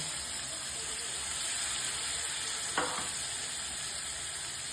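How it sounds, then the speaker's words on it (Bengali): Water from a rinsed spice bowl hits a hot frying pan of small-potato dum with peas, giving a continuous close sizzle and one brief splashing burst midway. "এবার আমি মশলার বাটিটা ধুয়ে একটু জল দিয়ে দেবো"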